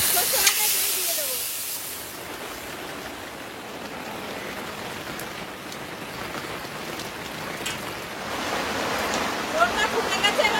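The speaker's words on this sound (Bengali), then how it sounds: "তেলের একটু জল পড়েছে।" A splash of water hits hot cooking oil while preparing hilsa fish, bursting into a loud, close spatter that settles into a steady hiss and swells again near the end.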